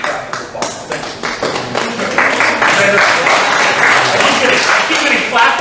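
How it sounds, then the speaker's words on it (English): A group of people clapping in a martial arts gym, a quick patter of claps that swells into steady, dense applause filling the room. "I keep getting clapped at."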